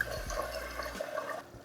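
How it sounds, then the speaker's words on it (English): Boiling water poured into a pot of browned goat mutton curry with potatoes, a brief gurgling, splashing stream of liquid that fades out near the end. "So adding boiling water."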